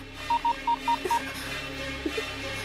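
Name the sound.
telephone number being dialed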